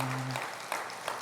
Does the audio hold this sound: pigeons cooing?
no